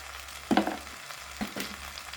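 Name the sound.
spices frying in oil for jackfruit curry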